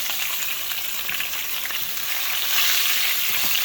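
Wild mushroom caps frying in a pan with a steady, loud bright hiss that grows slightly stronger near the end, close and without talk.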